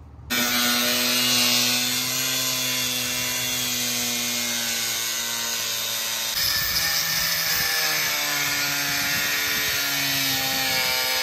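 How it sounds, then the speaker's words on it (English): A power tool cuts into a camper shell being trimmed to fit a Nissan 720 pickup, making a loud, continuous high-pitched whine with a steady tone that shifts in pitch partway through as the cut goes on. "we're gonna try to cut it"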